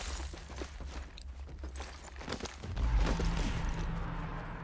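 Gunfire in a video game comes as scattered shots and rapid bursts, fairly loud and close, with quick clattering steps in between and a heavier low blast partway through.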